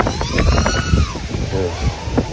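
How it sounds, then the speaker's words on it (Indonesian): Strong wind buffets and rushes past outdoors during FPV drone flying, a gusty roar under someone talking throughout, with faint whining tones rising and falling in the background. "Ini anginnya kenceng banget itu teman-teman, dengar suara angin gak di ini saya"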